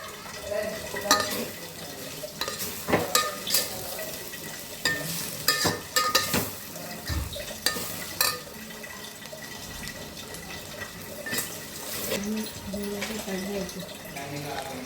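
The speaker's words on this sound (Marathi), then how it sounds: "कांदा खोबरं असं भाजून घ्यायचं ब्राऊन होईपर्यंत" Onion and coconut roasting until brown in a pan, sizzling under repeated clatters and scrapes of a utensil against the pot, with people talking throughout.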